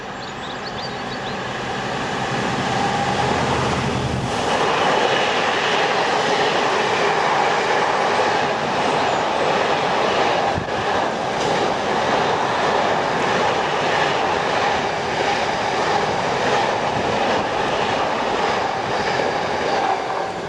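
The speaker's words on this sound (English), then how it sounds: "The first southbound freight train was running way ahead of schedule" A southbound freight train rumbles past at close range, heavy and steady for the whole stretch, with a rising approach at the start and continuous wheel and wagon noise after that, no voices.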